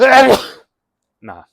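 A single sharp human sneeze up close, followed after a short silence by a brief muttered word.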